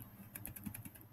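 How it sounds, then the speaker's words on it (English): Small clicks on the arrow buttons of a computer mouse while arranging a Google Photos collage, a quick series of light taps about every tenth of a second, faint and close, with no talk. "I'm just clicking the little arrow buttons."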